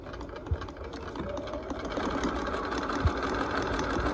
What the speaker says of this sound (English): I am going to backstitch, so I want to make sure that I am backstitching.